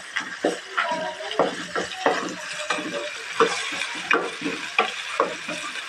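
Onion with ginger garlic paste being stirred in a frying pan for a fish dish, with repeated scraping spoon strokes in an uneven rhythm over a steady, close sizzle.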